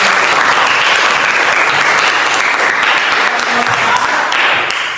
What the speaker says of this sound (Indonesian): Tepuk tangan dulu bagi.